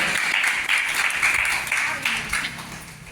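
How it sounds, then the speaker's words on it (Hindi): Clapping breaks out at an outdoor prize-giving ceremony as winners receive gifts, a brisk burst of audience applause in several swells with a voice speaking over it. "जोरदार तालियां हो जाए"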